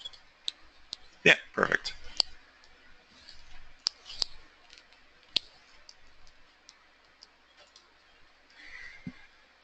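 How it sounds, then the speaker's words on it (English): Sharp computer mouse clicks tick out singly and irregularly at close range, with a few short spoken words between them. "If I just click on it."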